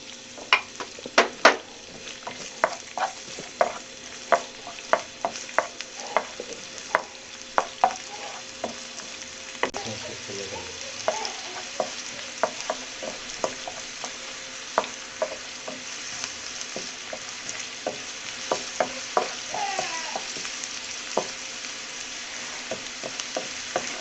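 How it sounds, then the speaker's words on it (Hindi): Finely chopped small onion frying in a pan for dhaba-style urad dal, a steady sizzle laced with frequent sharp clicks and scrapes of a spoon against the metal, close and continuous, with no talking. "एक छोटे साइज की ऑनियन जो हमने बारीक काटी हुई है वो हम इसमें ऐड करेंगे"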